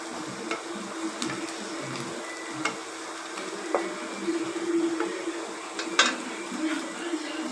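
Asafoetida powder stirred into a sautéing pan while cooking poha, giving a steady low sizzle broken by scattered light scrapes and taps of the spoon.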